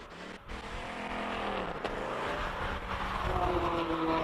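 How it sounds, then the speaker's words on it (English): A Ford Mustang climbs a hill-climb course at a Cape Town speed event, its engine droning steadily and building louder as it accelerates up the slope, with no talk over it. "Beautiful Mustang going up the hill."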